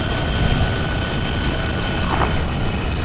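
Pirelli Scorpion Rally STR motorcycle tyres on the road at high speed give a steady, continuous roaring drone. It holds at an even level throughout with no talk over it.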